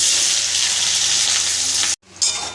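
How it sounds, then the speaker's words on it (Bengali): Chopped onions frying in hot oil over caramelized sugar in a pan for mutton curry, a loud, continuous close-up sizzle that cuts off abruptly near the end, then resumes. "পেঁয়াজটা আমার ভাজা হয়ে গেছে হাফ ভাজা হয়ে গেছে"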